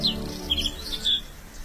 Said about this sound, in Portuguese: Nos extensos caniçais, há agora raras aves canoras.